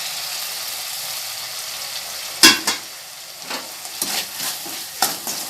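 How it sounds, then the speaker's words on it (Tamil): Tomatoes sautéing with ginger-garlic paste in a pan for egg curry: a steady sizzle broken by sharp scraping stirs, one loud stroke then several lighter ones, close up with no talking. "நல்லா தக்காளி நல்லா வதங்கட்டும்."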